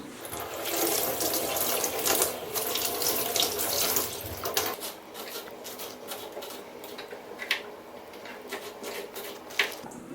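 Tap water runs steadily into a kitchen sink while raw chicken pieces for gongura chicken are washed. The rush is strong at first, then lighter with intermittent splashes and clinks. No voices.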